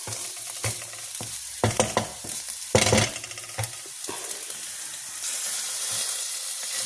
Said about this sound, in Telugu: ఇలా ఉల్లిపాయల్ని బాగా వేపుకోవాలండి. బాగా కొద్దిగా గోల్డెన్ బ్రౌన్ కలర్ వచ్చే వరకు ఇలా వేపుకోవాలి.